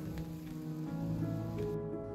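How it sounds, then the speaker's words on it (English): Steady rain falls at a mountain glamping dome accommodation in Kundasang, Sabah, making a continuous broadband hiss with faint drips, with no talk. "and as rain fell,"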